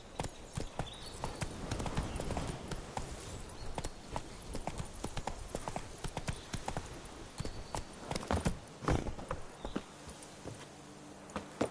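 Hooves of Roach, a horse in the video game The Witcher 3, pound out a quick, uneven clip-clop on hard ground, running continuously for several seconds with only a faint voice now and then.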